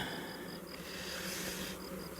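Honeybees humming steadily around an open nucleus-colony hive during an inspection, a continuous soft buzz with no voices.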